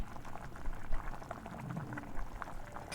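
Parshe fish curry broth boils in a pot on a home stove, with a soft, steady bubbling and popping close by and no talk.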